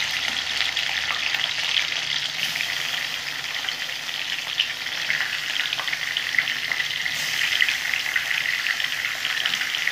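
Hilsa fish pieces coated in salt and turmeric fry in hot oil for a light fish curry, giving a steady, close, loud sizzle with bright spitting crackle throughout and no talking.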